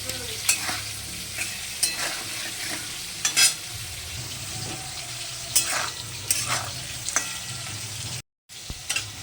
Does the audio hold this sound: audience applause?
no